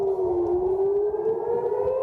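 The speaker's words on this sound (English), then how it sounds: "Sirens sounding across cities in Israel as Iran now retaliates against a joint U.S.-Israeli attack." Air raid sirens sound across Israeli cities during an attack, a loud, sustained wail whose pitch rises slowly and evenly, heard on its own without any talk.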